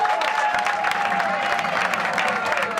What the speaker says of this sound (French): Est-ce qu'on peut applaudir pour les cases?